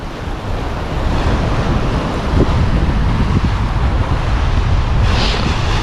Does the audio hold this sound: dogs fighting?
no